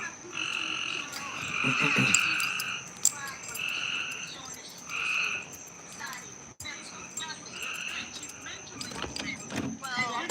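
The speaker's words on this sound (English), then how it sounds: "All right, frogs, y'all got it." Frogs croak outside at night in a dense, rhythmic chorus of repeated calls with a thin insect-like whine above, while someone talks over them near the microphone.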